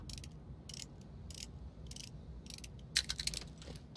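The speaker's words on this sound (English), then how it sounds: "Repair that extractor fan." An extractor fan being repaired in Dirty Bomb, rhythmic bursts of ratcheting mechanical clicking repeating at a steady pace over a low rumbling hum, close and with no one speaking.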